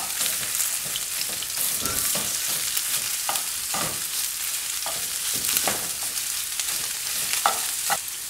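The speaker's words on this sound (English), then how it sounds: "Get this all browned and the meat. Get your spatula and cut it up." Breakfast sausage meat browning in a pan for keto pepper pizza poppers, broken up and stirred with a spatula; a steady sizzle runs throughout with repeated scraping strokes and no talking.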